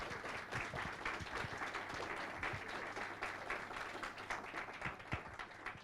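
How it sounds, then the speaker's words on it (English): A conference audience applauds a startup venture capital panel, with dense, continuous clapping from many hands at an even level throughout, faint voices murmuring underneath. "Let's give them a round of applause."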